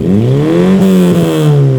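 An Opel Corsa A GSi hot hatchback engine revs loudly and steadily up close, its pitch climbing and dipping slightly across the short burst with no talking.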